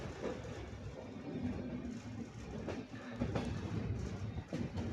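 A Swatantrata Senani superfast express passenger train runs along the tracks, heard from aboard as a steady close rumble with faint rhythmic clatter as it picks up speed.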